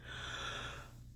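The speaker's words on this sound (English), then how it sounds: "Can't stop yawning." A single long yawn, a drawn-out breathy exhale that swells and then fades over about a second, close and fairly quiet.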